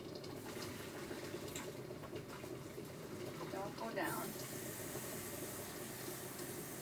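Cold water poured over cooked lasagna noodles, a steady splashing flow under a voice that grows louder near the end as the stream picks up.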